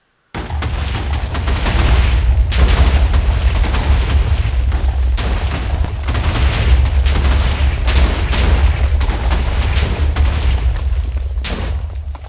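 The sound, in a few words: explosion in a Mine-Imator animation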